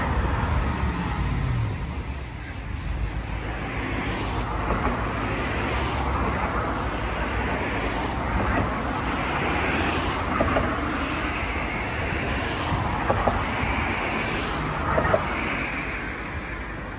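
A BMW 645Ci convertible with the roof up drives along a road, a steady broadband rush of tyre and road noise with engine hum heard from inside the cabin, continuous and moderately loud throughout.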